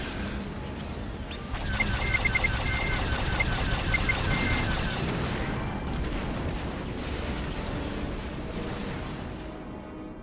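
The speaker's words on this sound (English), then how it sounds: "I really like the rapid fire." Rapid-fire laser cannons of a TIE Fighter in a space combat video game, a dense stream of quick repeated blasts layered over rumbling explosions and engine noise, loud and continuous.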